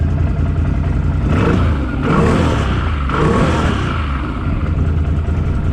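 A loud ATV engine idles roughly and revs up a few times, its rumble swelling and settling close by.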